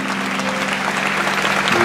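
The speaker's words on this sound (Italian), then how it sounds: "Forte l'applauso, per cortesia" A crowd at an Italian speaking event claps in steady, dense applause that fills the whole moment, loud and continuous.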